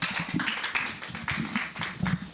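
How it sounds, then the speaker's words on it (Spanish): A church congregation applauds, a steady wash of many hands clapping at moderate loudness throughout, with no distinct voices over it. "Dele un aplauso al Señor."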